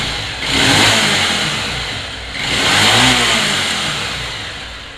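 A motorcycle engine being modified and checked for RPM revs twice, rising in two loud swelling pulls that ease back toward idle, close and alone with no talk.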